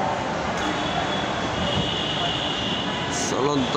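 A metro train on Bangladesh's metro rail, heard at a station as a continuous rolling rumble with a faint high whine, ending in rising squeals as the wheels brake.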